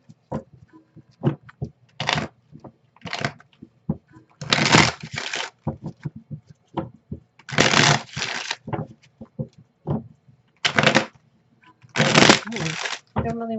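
Tarot cards being shuffled in repeated bursts of papery riffling, fairly close, with a person talking between the bursts.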